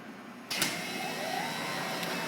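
A Bridgeport Explorer X-26 CNC vertical mill spindle starts up and runs at 1200 RPM with a quiet, steady mechanical whir, faint and close in a shop.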